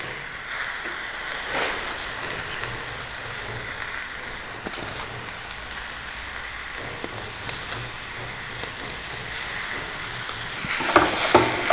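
Finely cut rose petals stirred and fried with sugar in a pan, giving a steady soft sizzle and hiss with occasional scraping and stirring clinks and no speech.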